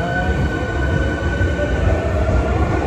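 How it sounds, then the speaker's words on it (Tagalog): A train running through a rail station in Osaka, a steady continuous rumble of wheels and carriage noise, loud and close, with no talking. "Brown train pala yung nasakyan namin, hindi green."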